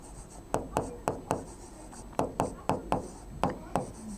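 A pen or marker writes chemistry notes on a board, a series of about eleven quick rhythmic strokes, close and clear over a steady background hiss.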